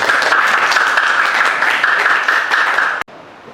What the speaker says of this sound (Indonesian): Tepuk tangan untuk Clarissa.